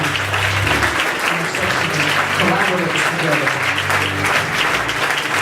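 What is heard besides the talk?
church congregation applause, hand clap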